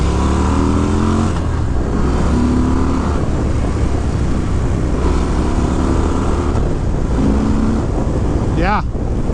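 A 2022 Harley-Davidson Fat Bob pulls away hard on takeoff, its engine rising through several loud revving surges under heavy wind rush, heard from the rider's position.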